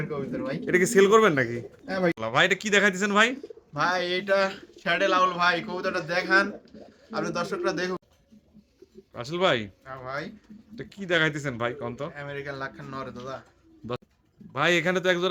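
Pigeons at a seller's loft, with a pair including a male bird, cooing repeatedly in rhythmic throaty bursts close by, mixed with ongoing talk.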